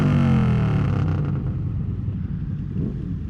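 A motorcycle engine rumbles loudly and close by, its revs falling off into a deep, steady idle with a throaty tone, and nobody talks.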